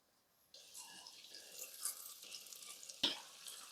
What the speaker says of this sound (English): our small donuts start to fry